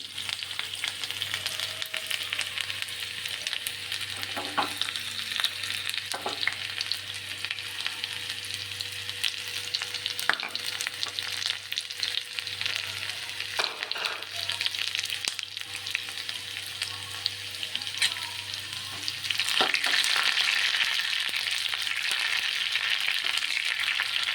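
Onions frying in oil for a coconut-based chicken curry, a steady crackling sizzle running throughout with occasional utensil taps, growing a little brighter and louder toward the end, no one speaking.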